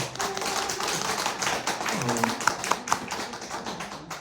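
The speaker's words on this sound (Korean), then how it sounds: "여러분 박수 부탁드리겠습니다." An audience at a poetry book talk claps to welcome an English literature scholar onto the stage, a fairly quiet, scattered patter of hands with a few sharper individual claps standing out near the middle.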